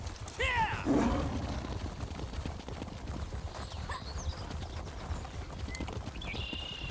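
Horse hooves clip-clop in Elder Scrolls Online, a quick rhythmic patter of steps with a short whinny near the start, moderately loud over a soft game ambience.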